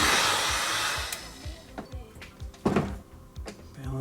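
Heat gun blowing hot air onto heat-shrink tubing on car wiring near an open bumper and fender, a steady broadband rush fading after about a second, followed by scattered handling clunks and taps close by.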